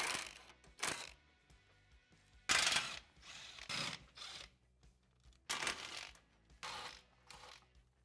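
A ratchet works loose the skid plate bolts on a Yamaha Rhino side-by-side, sounding in several quick bursts of fast clicking separated by pauses, close and clear with no talking.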